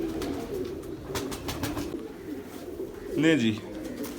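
Pigeons of a fancy breed coo softly in a low, continuous flock murmur, and someone speaks briefly near the end.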